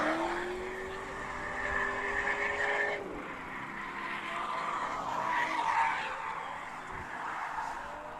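A drift car slides sideways at a USDrift Circuit event at PBIR, its engine note sustained before dropping off around the midpoint, then a broad rough skid and tire squeal continue at a steady, fairly loud level with crowd-like wash behind.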